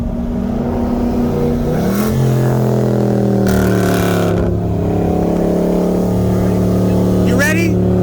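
A 2019 Dodge Charger 392 with intake and cat deletes on 93 octane races a 2018 BMW 340i with a downpipe from a 40 mph roll. The engines drone loud and steady, their tones sliding and shifting as they pull.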